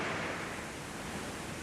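An African waterfall roaring as a dense, steady wash of broadband rushing water, loud and unbroken for under two seconds, with no voices.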